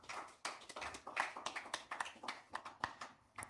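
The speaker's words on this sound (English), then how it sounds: "Round of applause," Applause from a conference audience, a scattered patter of hand claps with irregular bursts, fairly quiet and distant, continuing for a few seconds.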